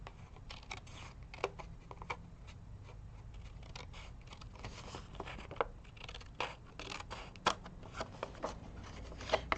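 Paper card being trimmed for a birthday card: quiet, irregular crisp snips and rustles of paper handled on a tabletop, close and soft with a few sharper clicks.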